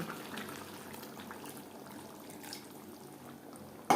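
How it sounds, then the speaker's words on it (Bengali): Water poured into a pan of chicken and potato curry on the stove, a soft continuous splashing gush that stays fairly quiet and steady, ending in a sudden sharp clatter. "হাই ফ্লেমে দু তিন মিনিট রান্না করে নেওয়ার পর দিয়ে দেবো জল"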